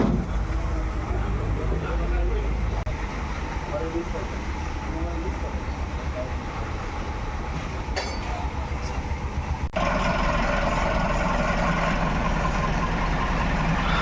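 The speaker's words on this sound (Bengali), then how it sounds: "ইঞ্জিনের সাউন্ড একদম স্মুথ" A 2020 TATA 1109 truck engine runs with a steady low rumble throughout, which grows louder and harsher partway through.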